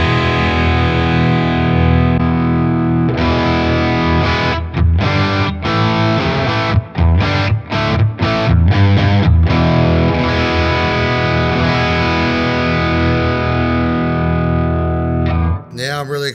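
Distorted electric guitar through a BOSS IR-2 amp and cab simulator loaded with an OwnHammer MESA Boogie impulse response, loud and saturated, sustained chords broken by a run of choppy muted stabs before ringing out again.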